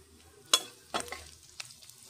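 Onions frying in a pan with turmeric added for a broccoli fry, heard as a faint sizzle under a few sharp stirring clicks and scrapes.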